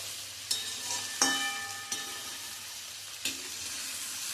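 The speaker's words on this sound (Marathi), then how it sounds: "साधारणपणे 20 मिनिट एवढा आपल्याला हा कांदा परतायला लागणार आहे" Onion sautéing in oil for a garlic-onion masala, a soft steady sizzle broken by four sharp scraping stirs of a spoon against the pan, close and alone.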